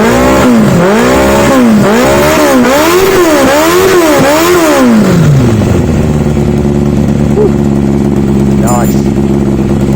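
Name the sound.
motorcycle engine first startup and revving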